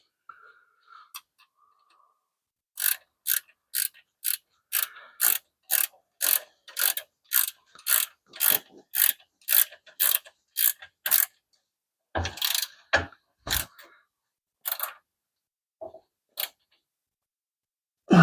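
A ratchet wrench tightening the shifter bolt on a Mopar A-body during a Hurst Competition Plus shifter install, a long run of regular close clicks, then a few louder clunks.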